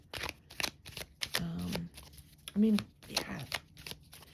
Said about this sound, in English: I'm just going to go ahead and pull one more card and ask.